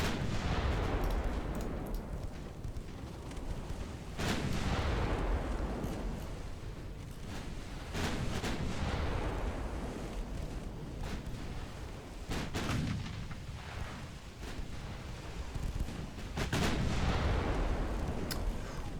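Naval artillery in the Ultimate Admiral Dreadnoughts warship game, deep booming salvos rolling out again and again with rumbling echoes between them, dense and continuous, with no voices.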